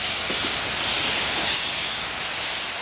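A steam locomotive lets off a loud, continuous hiss of escaping steam that holds steady for a few seconds, close and full, with no talking over it.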